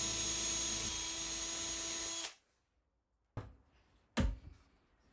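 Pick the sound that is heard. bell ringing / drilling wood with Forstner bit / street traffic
drilling wood with Forstner bit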